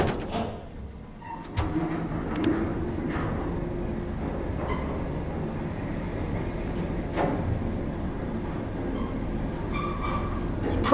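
A KONE express lift in the southern end of the Cotton building runs with a steady mechanical rumble and faint rattles, a soft clunk near the start and no talking.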